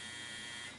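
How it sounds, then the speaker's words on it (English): A laundry machine's buzzer drones as one steady electronic tone, constant for under a second and then tapering slightly at the end, heard alone without speech. "I am doing a load of laundry, so that buzzer could go off again."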